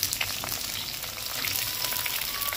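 Onion, tomato and green chilli fry over a wood fire, giving a steady, dense sizzle and crackle that runs without a break at close range, with no voices.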